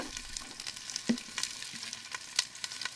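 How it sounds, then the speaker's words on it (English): Carrots and onions fry in a pan over a campfire, giving a faint crackling sizzle with scattered pops and light stirring scrapes, quiet and without talk. "Ooh, sizzle sounds."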